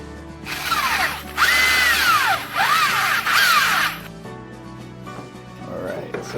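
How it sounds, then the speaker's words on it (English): A power drill bores out a fitting for a stealth camper's gravity-fed water system. The motor whines up and down in speed across several close, loud passes, then falls to lighter handling noise. "what I have to do is drill this out so that it'll twist all the way up"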